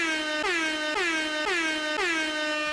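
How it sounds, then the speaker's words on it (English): A podcast air horn sound effect blasts in five rapid, evenly spaced bursts, each a loud blaring tone with a slight downward bend, played alone with no talk. "could be a very inappropriate amount of air horns."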